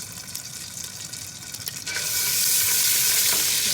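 Ginger garlic paste frying in hot oil left over from frying eggs, a steady close sizzle with scattered splatter that swells to a loud, dense hiss partway through.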